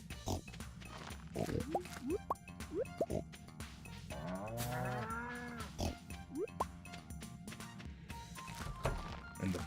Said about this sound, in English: Moo cows and the piggies.